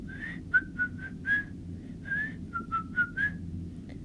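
A person whistles a short, bright tune in quick separate notes, fairly quiet, while rolling cookie dough for frozen pinwheel cookies in a kitchen.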